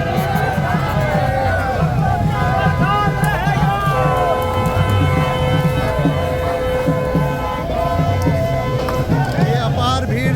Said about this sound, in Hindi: विश्वकर्मा महाकुंभ के अवसर पर देखिए अपार भीड़